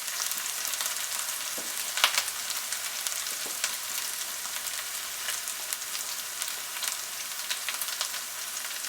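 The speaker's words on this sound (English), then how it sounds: "in the pan along with fried onions. Give this a good stir for about a few minutes." Mince, potato and fried onions sizzle steadily in a frying pan, with occasional scraping ticks of stirring over a constant, close crackle.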